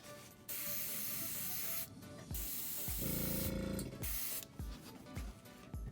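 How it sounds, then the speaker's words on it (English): Bursts of airy spray paint hiss onto fishing lure eyes in several passes, with a steady mechanical whir and a faint buzzing beneath, close and continuous. "you're gonna wanna spray a coat, dry it, spray another coat"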